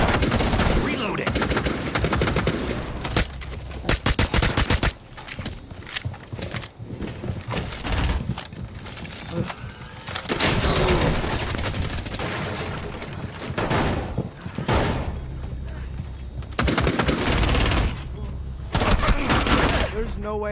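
Rapid bursts of gunfire from a ranked Rainbow Six Siege match, loud and near, with sustained automatic volleys and short pauses, firing almost nonstop throughout.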